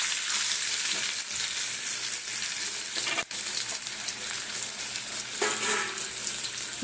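Potatoes fry in a pan with a steady, close, loud sizzle that holds throughout, broken by one sharp click and a brief stirring shuffle near the end.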